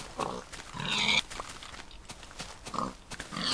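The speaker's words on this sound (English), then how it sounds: "So what do? We slaughter innocent pigs." Pig grunts from the Minecraft video game, several short snorting oinks in an uneven sequence, fairly close and clear with no talking over them.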